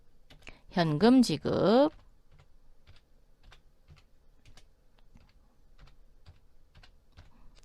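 Computer keyboard keys, including the spacebar and delete key, tapped in light, sparse clicks while working in accounting software; a voice speaks briefly at the start, then the soft keystrokes continue alone.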